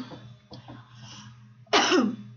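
A person coughs and clears their throat, first a few soft coughs and then one loud, harsh cough near the end, all close to the microphone with no talking.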